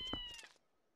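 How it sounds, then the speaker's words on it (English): Cats meow in the video game The Legend of Zelda: Twilight Princess. A short, close, clear mewing call is heard on its own. "Cats! Cats!"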